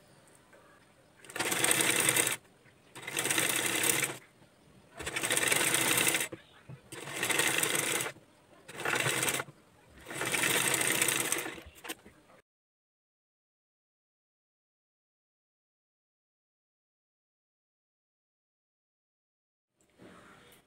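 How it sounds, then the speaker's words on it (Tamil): A sewing machine stitches a blouse dori piece in six steady whirring bursts of one to two seconds each, separated by brief pauses, then falls silent for the remainder. "நம்ம எப்பவும் டோரி ஸ்டிச் பண்ணுற மாதிரி இதை ஸ்டிச் பண்ணி எடுத்துக்கலாம்."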